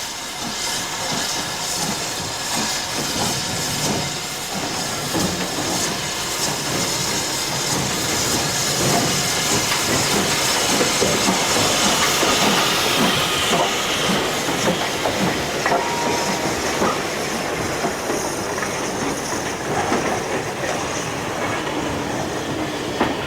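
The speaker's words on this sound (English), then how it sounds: "One of the southern engines, 73050, is now named City of Peterborough and is seen on a royal working on the Nene Valley Railway" British Railways steam locomotive 73050 City of Peterborough works a train on the Nene Valley Railway, its hissing steam and rhythmic rail clatter loud and continuous for the whole stretch, with no talk.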